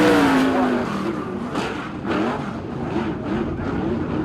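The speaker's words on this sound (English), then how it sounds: "Next out on track we see car number 18, Finn Cleveland." Race car at a War of the Wings round in Invercargill, loud engine roaring and revving down the back straight, passing close with a falling pitch and shifting engine note.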